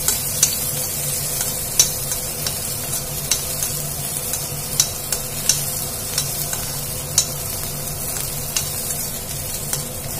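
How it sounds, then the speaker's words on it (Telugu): Coriander seeds frying in a pan for kalimkaya chutney, a steady crackling sizzle with frequent light clicks and taps of stirring throughout, with no talking. "ధనియాలు కూడా కొంచెం వేగాలి."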